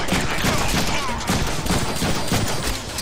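Rapid gunfire bursts from the Deadpool video game, loud and dense, several overlapping shots and automatic fire filling the whole stretch with little pause.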